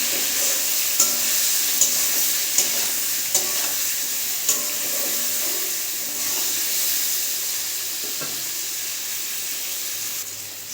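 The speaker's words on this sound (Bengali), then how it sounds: "এবারে নেড়ে চেড়ে সবজিগুলোকে ভালো করে ভেজে নেব।" Vegetables seasoned with turmeric and salt are stirred and fried in a pan, with a steady sizzle and hiss broken by soft scraping stirs at irregular intervals.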